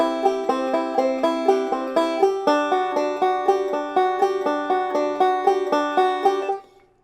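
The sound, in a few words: banjo shifting double stops after double roll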